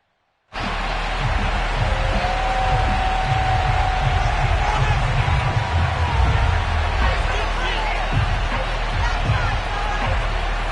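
A packed stadium crowd at FedEx Field in the Madden 22 football video game keeps up a steady, loud roar throughout, with a commentator's voice over it.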